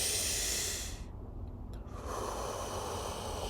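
Deep breathing exercise with a long, forceful exhale of as much air as possible, heard as loud, close breathy hissing that eases off briefly before another strong breath.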